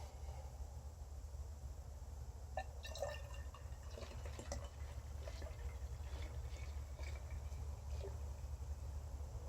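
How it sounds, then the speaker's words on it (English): Water runs into a container to top up a homemade organic weed killer mixture of vinegar and hand soap, a faint steady trickle with a few brief louder splashes partway through and no talk. "Then you just fill up the rest with water."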